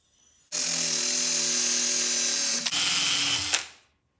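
A power drill whines steadily at high speed for about two seconds, briefly dips, then runs again before winding down while sharpening an axe with 800 grit; close and loud, with no talking.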